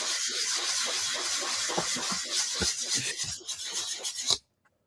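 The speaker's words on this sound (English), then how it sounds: "Bernard's going at the sanding over there, isn't he?" Steady rough rubbing of sandpaper on a plastic model kit, rapid scraping strokes close up, continuing for several seconds before stopping suddenly.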